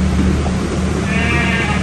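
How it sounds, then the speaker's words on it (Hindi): Goats bleating at close range over a loud, dense background of farmyard noise and hum, the bleats blending into a continuous wash of sound for the whole moment. "दो बकरियां डिस्टर्ब हैं"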